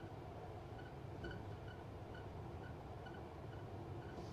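A London Underground Piccadilly Line train runs along the track, heard from the driver's cab as a steady low rumble and rolling noise. Faint tonal whines come and go over the top as it slowly picks up speed.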